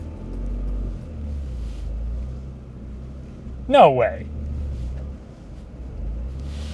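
Toyota GR Corolla with AWD in a 60/40 split climbing a snowy hill, a steady low engine rumble throughout with a brief sharp exclamation from a person partway through.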